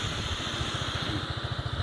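A 2021 Honda ADV155 scooter idles a little high, a close, steady, rapid putter with even pulses and no talking.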